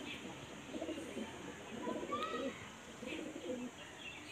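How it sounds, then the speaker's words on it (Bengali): Running pigeons kept for sale coo in low, rolling bursts, close by, with a steady hiss of background noise and a faint chirp over the top. "সব রানিং পায়রা এগুলো।"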